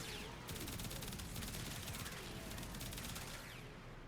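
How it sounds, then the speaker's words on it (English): Prisma Grakata assault rifle in Warframe firing fully automatic: a loud, dense stream of rapid shots lasting about three seconds before stopping. "this weapon is just insane with the fire rate"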